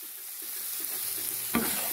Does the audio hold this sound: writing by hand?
no